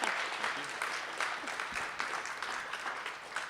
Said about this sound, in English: Please give a huge round of applause to Tracey.